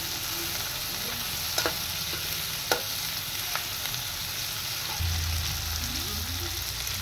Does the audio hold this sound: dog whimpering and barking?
no